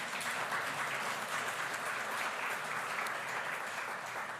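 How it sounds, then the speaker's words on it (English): Conference audience applauding, a dense, even wash of many hands clapping at moderate distance, sustained for the whole few seconds without a break. "Another big round of applause"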